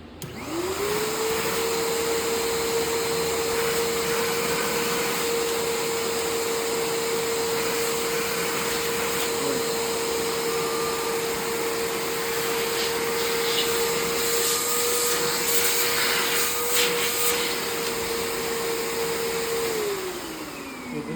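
A bagless vacuum cleaner runs steadily for about twenty seconds during a suction test, starting with a rising whine and holding a constant loud hum before spinning down at the end.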